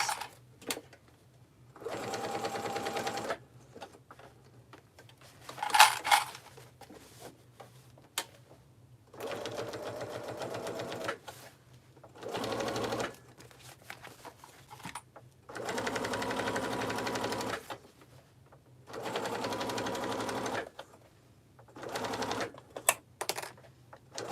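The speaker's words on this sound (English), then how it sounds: "I've got my webbing now sewn on." Sewing machine stitching webbing onto an Oxbow tote bag, in several bursts of steady rapid whirring separated by quiet pauses, close and moderately loud.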